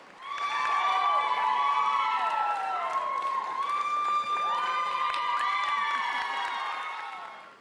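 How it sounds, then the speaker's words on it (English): A family cheers and shouts excitedly at a pageant crowning, loud sustained crowd whoops and high voices rising and falling for several seconds before tapering off. "I could hear my family cheering their heads off."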